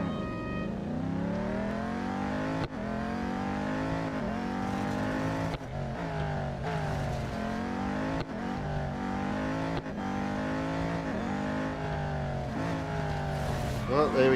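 Race car engine in a mobile racing game during an autocross at Laguna Seca: steady loud revving with repeated upshift dips roughly every couple of seconds, pitch climbing and falling through the gears, under occasional talk.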